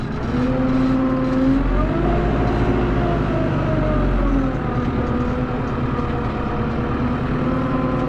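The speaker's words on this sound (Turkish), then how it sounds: "Üçüncü kepçemizi boşaltıp makinemizi çalıştıracağız." A New Holland tractor engine runs an Erdallar feed mixer, a loud, steady low drone close by that eases slightly partway through, with no talking.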